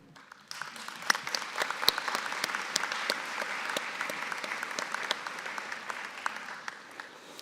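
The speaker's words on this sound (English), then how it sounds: "Please give yourselves a round of applause for achieving the completion of your degree." Graduates at a December commencement ceremony at Marian University break into a sustained round of applause, a dense crowd of clapping hands that builds within the first second and holds steady with scattered sharper claps throughout.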